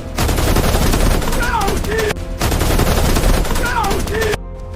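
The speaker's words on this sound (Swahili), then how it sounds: "huku akifyatua risasi kurudisha mashambulizi" Loud, dense gunfire from a film bank-robbery shootout, sustained bursts of automatic and rapid shots under a heavy music and effects bed, with a brief drop near the middle and a cut near the end.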